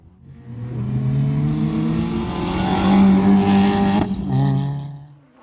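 A 1.4-litre Class 3 Nissan Micra rally car on a stage at Aghadowey holds a loud, strained engine note close by, revving steadily with a brief dip as it shifts before pulling hard again.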